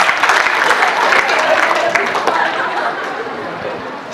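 Enthusiastic audience applause at a comic poetry gathering in a college, steady crowd clapping with chatter and some laughter mixed in, slowly easing off toward the end.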